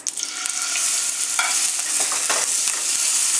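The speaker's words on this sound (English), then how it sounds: "and we're going to sear it" A steady, close sizzle of pork tenderloin searing in a hot pan with olive oil, with a few brief clicks and scrapes over the constant hiss.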